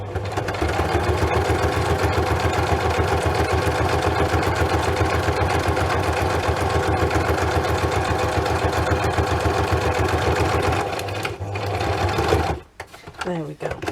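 Sewing machine stitching paper pages into a handmade junk journal, a loud steady rapid mechanical whirr running continuously and close up, then stopping abruptly near the end with a few brief handling sounds.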